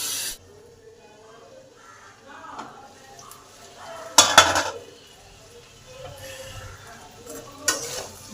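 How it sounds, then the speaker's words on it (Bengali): Vegetables for Bengali labra, pumpkin and ridge gourd among them, frying in a covered pot, a soft sizzle with a few sharp clanks of a spatula and lid, a voice talking quietly at times. "বারবার ঢাকা খুলে নেড়ে দিয়েছি।"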